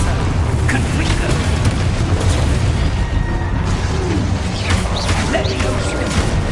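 Spell blasts from Hogwarts Legacy burst and boom in quick succession, a dense and loud run of magical explosions with crackling debris and game effects layered throughout.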